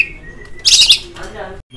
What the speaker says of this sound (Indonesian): Nah, ini kacer gacor dapat dari aviari.